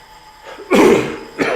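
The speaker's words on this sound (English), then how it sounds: "Here comes that cough." A single close, harsh cough bursts out, followed moments later by the start of another.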